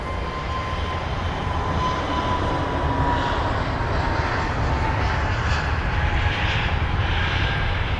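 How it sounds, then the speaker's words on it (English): Jet engines of an Airbus A320neo at Heathrow roar steadily and loudly throughout, a continuous broadband rumble with a faint whine and no pauses. "that looks like the 320 Neo, and it is off to Toulouse"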